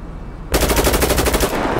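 Rapid, loud machine gun fire from the GTA V video game bursts in after a brief quiet start and hammers on as an unbroken string of close shots.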